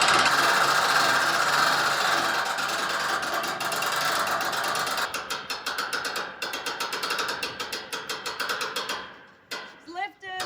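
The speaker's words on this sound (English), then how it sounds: "Should we see if we can winch this bad boy up?" A winch ratchets as it hoists a load during a shipping-container home build, starting as a dense mechanical rattle, then breaking into distinct rhythmic clicks that grow sparser and stop near the end.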